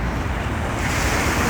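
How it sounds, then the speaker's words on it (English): Waves wash in steadily along the Brooklyn waterfront in the DUMBO area near the Brooklyn Bridge, a continuous broadband surge with heavy wind buffeting the microphone, loud and close throughout, with no voices. "See the waves coming in."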